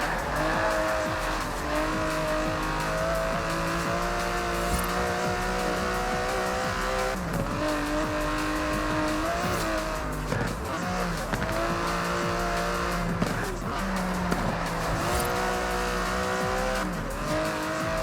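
An Aston Martin DB11 in the racing game Forza Horizon 4 drives continuously, its engine note rising and falling through gear changes with occasional tire squeal, loud and close with no talk.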